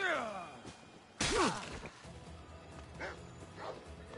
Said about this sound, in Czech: Zas nějaký pes, kurva